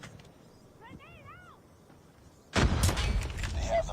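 Frag grenade thrown and detonating in Call of Duty Mobile, a loud broadband blast erupting after a quieter stretch with faint game tones and a voice, then sustained crackling debris to the end.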